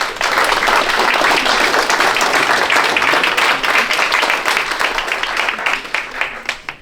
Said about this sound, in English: One more round of applause for the world champion.